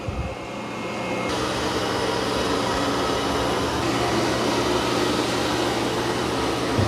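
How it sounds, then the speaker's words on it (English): A Dreame X40 robot vacuum cleaner runs over carpet with a steady, close whirring drone and broadband suction hiss that holds even throughout. "But this is doing a really good job vacuuming this carpet."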